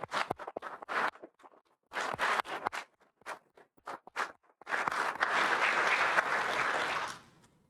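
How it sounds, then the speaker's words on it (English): Crowd applause for candidates at a Chamber of Commerce forum, starting in scattered bursts and swelling into sustained, dense clapping that fades out near the end. "I think they all deserve a round of applause at this time."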